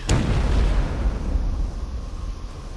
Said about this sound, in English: Suddenly a boom as loud as cannon fire shook the area.